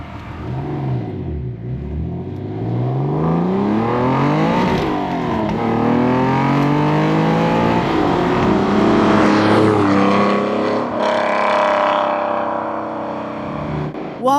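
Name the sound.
sports car engine accelerating hard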